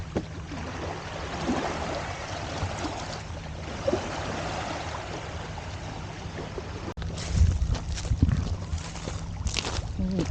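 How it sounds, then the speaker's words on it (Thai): A small stream flows at Carkeek Park in Seattle, a steady broadband rush of water that stays even throughout, with a brief break and slightly busier, louder splashing near the end. "มีลำธารเล็ก"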